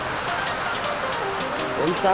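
Heavy rain pours steadily outside in a dense, continuous hiss, while someone talks over it near the end.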